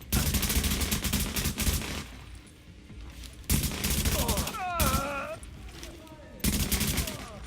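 Gunfire in the shooter game The Division, with loud bursts of automatic fire in several volleys, sharp shots cutting in and out and short pauses between. Game voices and electronic effects sound in the gaps.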